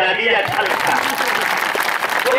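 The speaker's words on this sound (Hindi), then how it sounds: "एक बार तालियां और बजा दी" At a 2012 kavi sammelan poetry gathering, the audience breaks into applause: a steady, full wash of many hands clapping together, moderately loud and unbroken throughout.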